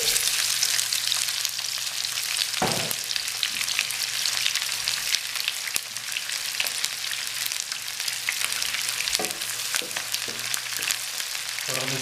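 A medium onion frying in about half a cup of hot oil gives a dense, continuous close sizzle throughout, broken by a few brief clinks and stirring knocks.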